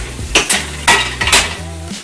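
Steaks being flipped in a pan: three or four loud metallic clanks and scrapes of a utensil against the pan in quick succession, close by, over a low hum and faint sizzle, with no talking.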